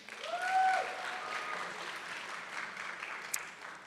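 Steady applause for graduating high school students fills the room, a moderate crowd clapping continuously with a brief whistle-like tone near the start.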